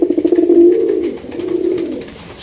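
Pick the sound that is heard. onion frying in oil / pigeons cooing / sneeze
pigeons cooing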